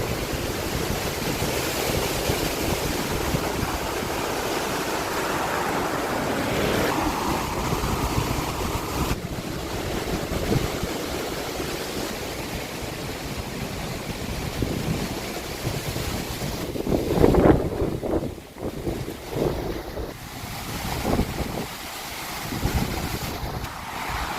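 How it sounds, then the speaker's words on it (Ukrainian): Strong warm wind roars and gusts by the ocean on an island with waves churning beneath, buffeting the microphone and briefly swelling louder before easing. "Але вітер теплий-теплий. Така стихія тут ось."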